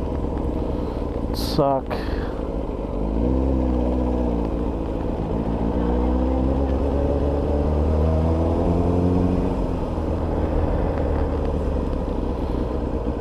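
A car drives slowly through Hamburg city streets with its engine humming low and steady, rising and falling gently with speed, while someone talks briefly over it near the start.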